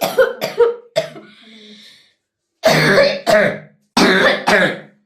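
A 12-year-old child with a long-lasting cough coughs in close, harsh bursts: a quick cluster, a wheezy drawn-out breath, then two more pairs of loud coughs separated by brief silence.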